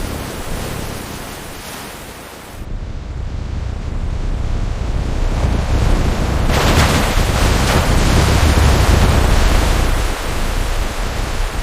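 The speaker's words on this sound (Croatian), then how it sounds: "Evo ga, dolazi talas, gledajte kako ruši zgrade." Film effect of a tsunami wave crashing through city buildings: a dense, loud roaring rush of water and debris that swells after a brief dip and keeps surging to the end.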